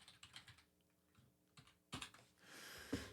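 Typing on a computer keyboard while coding, quiet scattered keystrokes followed by a louder cluster of taps near the end, with no talking.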